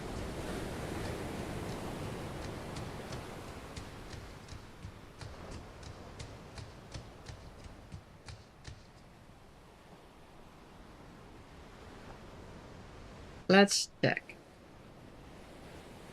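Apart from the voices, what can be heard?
sea waves in a video game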